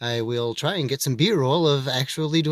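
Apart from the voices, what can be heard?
No everyday noises stand out.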